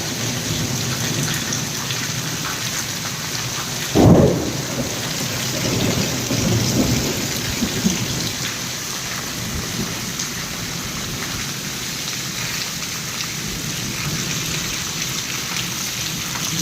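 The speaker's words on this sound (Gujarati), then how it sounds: "કરા સાથેનો વરસાદ" Steady heavy rain and hail drum down in a summer thunderstorm with wind, and a sharp crack of thunder bursts close by early on before the downpour carries on without letup.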